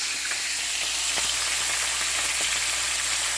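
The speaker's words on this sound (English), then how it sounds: "drain the excess oil from frying the fish" Steady crackling sizzle of salay-salay fish frying in hot oil, a continuous bright hiss with scattered pops, close and fairly loud, no voices.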